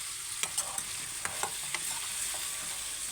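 Telangana eggplant curry being stirred in a pan, with light sizzling under a series of sharp scraping taps from the spoon at irregular intervals, close and fairly quiet.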